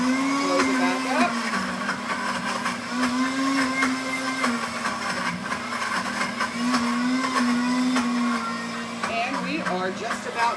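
A blender runs continuously, blending homemade peanut butter into a smooth paste, a steady loud motor whir with a pitch that dips and rises as the thick mixture churns.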